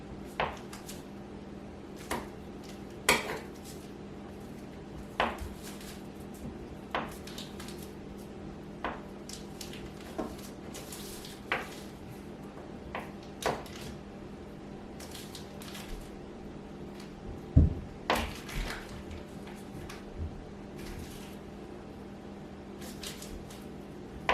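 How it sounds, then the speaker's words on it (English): Two knives cut cold butter into flour in a mixing bowl for baking powder biscuits, giving soft, irregular clicks and scraping taps that repeat through a quiet kitchen, with one sharper knock partway through and no talking. "I'll cut the butter into the flour first, just to kind of get it started"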